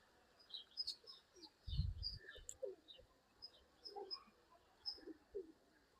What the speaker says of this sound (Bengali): হাজার হাজার কবুতর